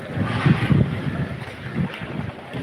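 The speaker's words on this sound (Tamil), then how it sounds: "நம்ம பெரிய படகு, இந்த படகுல வந்துட்டோம் உள்ள." Large fishing boat out at sea off Colachel, with a steady low engine-and-water rumble, gusts of wind buffeting the microphone, and irregular swells of sound.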